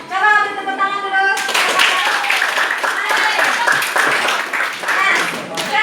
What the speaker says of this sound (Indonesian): Coba beri tepuk tangan dulu.